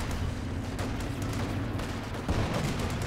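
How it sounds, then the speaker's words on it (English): Dense battle din from Company of Heroes 2, with grenade blasts and rapid gunfire rolling continuously and loudly throughout, one heavier blast standing out near the end. "Grenades going off here, left and right."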